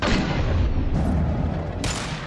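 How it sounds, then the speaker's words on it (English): An impact shot fired in the video game Mass Effect 2, a dense, loud, sustained blast with a roaring low rumble filling the whole moment. "Firing an impact shot!"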